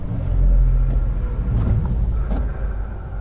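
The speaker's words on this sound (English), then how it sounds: "It's the last motorcyclist approaching" A motorcycle approaches on a single-track road, heard as a steady low engine rumble that swells and holds loud throughout, mixed with the hum of the recording vehicle.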